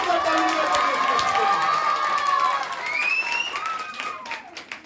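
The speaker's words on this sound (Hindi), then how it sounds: "आइए प्रभु यीशु मसीह के लिए जोरदार ताली बजाएं" Loud, dense applause and clapping from a church congregation honoring Jesus Christ at a Christmas service, sustained and close with cheering voices mixed in, tapering slightly near the end.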